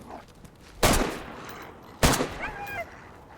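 In the video game DayZ, two loud, sharp semi-automatic gunshots crack about a second apart, each with a short echoing tail.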